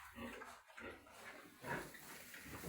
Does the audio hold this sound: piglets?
yes